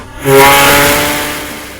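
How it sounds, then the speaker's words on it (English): A loud factory whistle hoots at the Nizhny Tagil tank works in the Urals, one sustained steady blast with a harmonic tone and breathy hiss that starts sharply and slowly fades over a second and a half, with no talk over it. "The whistle means the factory is working."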